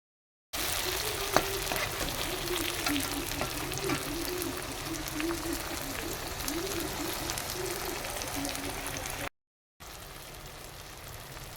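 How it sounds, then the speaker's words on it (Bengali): Chopped tomatoes sizzle steadily in hot oil, a dense crackling hiss that continues with a brief cut near the end. "ভালোভাবে ভেজে নেব টমেটোগুলো"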